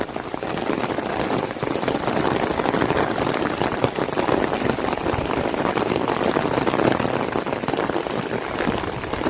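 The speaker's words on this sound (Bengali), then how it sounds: "একদম মুসলধারে বৃষ্টি হচ্ছে" Torrential monsoon rain pouring down near a river in the Sundarbans, a loud dense unbroken roar of drops hitting surfaces, with no voices.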